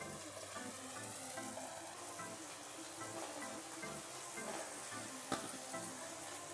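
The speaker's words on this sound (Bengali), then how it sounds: "দিয়ে দেবো বেগুন, বেগুনগুলো সব দিয়ে দিই এক এক করে।" Brinjal pieces fry in a hot pan for a Bengali fish and brinjal curry, a soft, even sizzling hiss that stays steady throughout, with one brief sharp tap near the end.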